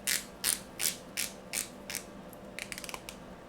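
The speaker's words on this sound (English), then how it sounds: "you can grab and rotate the bezel very easily" A 120-click ceramic bezel on a Raven Trekker dive watch ratchets as it turns: several slow separate clicks, then a quick burst of small clicks, close and crisp with no talk.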